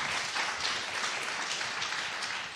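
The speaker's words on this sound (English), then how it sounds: "Round of applause real quick." Audience applause at a district attorney debate, a steady burst of clapping from a crowd in a hall that holds even and then fades slightly at the end.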